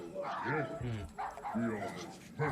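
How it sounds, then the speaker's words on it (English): Small puppy-like Cosmo creatures in the Marvel's Guardians of the Galaxy video game yip and whimper through short, bright calls, mixed with voiced sounds and heard at moderate loudness throughout. "So look, I got a bunch of little Cosmo dogs with me. Little Cosmo puppies."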